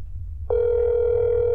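A telephone tone from the video game That's Not My Neighbor starts abruptly after a brief quiet moment and holds as one steady, clean electronic tone.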